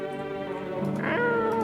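A cat meows in a video game, one long, loud, drawn-out whining call with a rising, bending tone at the end, heard up close with no talking.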